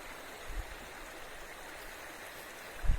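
A river flows as a steady, soft rushing wash in the background outdoors in Scotland, with a couple of low thumps near the start and end and no talking.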